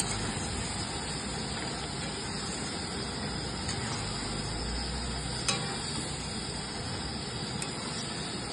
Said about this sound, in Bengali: এটা একটু হালকা নেড়ে চেড়ে নেব, যাতে সাংরিটা পুরো মশলার মধ্যে মিক্স হয়ে যায়।